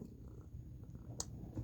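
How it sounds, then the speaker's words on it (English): A cat purrs softly and steadily nearby, a faint low rumbling texture that runs throughout with a brief sharper click near the end. "excuse the cat."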